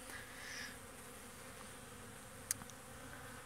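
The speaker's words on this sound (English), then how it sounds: "It's always a good thing when you can see the bees out flying on a nice fall slash winter day." Honeybees buzz outside their hive on a mild winter day, a faint steady hum of many insects in flight with no talk.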